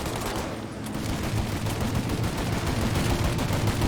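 Sustained heavy gunfire during a shootout in the game Mafia, a continuous loud roar of overlapping shots and rattling bursts with no letup.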